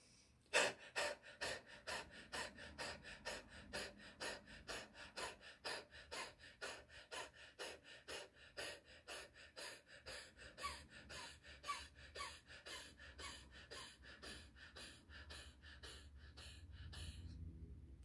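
Kapalabhati pranayama breathing in a set of about thirty forceful, rhythmic exhalations puffed sharply through the nose, evenly paced and close, fading off toward the end, with no talk.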